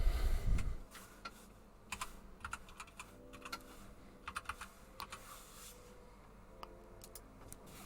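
Someone types on a computer keyboard while setting up Umbraco on Docker on a Raspberry Pi, giving scattered close key clicks in short irregular runs after a brief low thump at the start.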